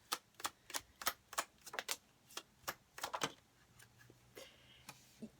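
Tarot cards being drawn and shuffled, a quick run of crisp close snaps and flicks in an irregular rhythm, then softer rustling, faint and alone without talk.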